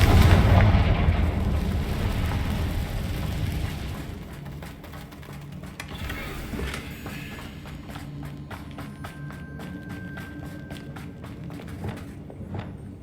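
A Confringo fire spell explodes in Hogwarts Legacy during a fight with Roman warriors, a loud booming blast up front that decays into a rumbling tail, followed by scattered crackling impacts and debris clatter.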